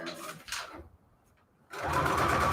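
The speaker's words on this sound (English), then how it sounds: "we're going to sew to the right from now" A sewing machine stitches fabric onto receipt paper in two loud, close bursts of fast mechanical whirring separated by a short quiet pause, with no talk.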